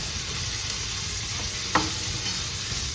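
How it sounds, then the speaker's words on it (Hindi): Dal sizzles steadily in a pan while a spoon stirs it, with one brief scrape or clink partway through, close and moderately quiet with no talk. "और ये पूरी की पूरी दाल इसमें डाल सकते हैं। एक ही बात पड़ेगी, इससे लम्स भी नहीं पड़ेंगे और अच्छे से मिक्स हो जाएगा।"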